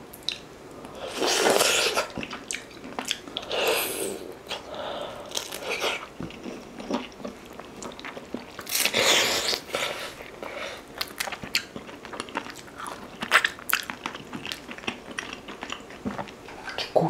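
Someone chews beef rib meat straight off the bone during a Korean galbitang meal, with close, loud, repeated crunchy bites and wet chewing in irregular bursts and no talking.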